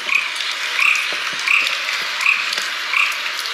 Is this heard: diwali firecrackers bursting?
no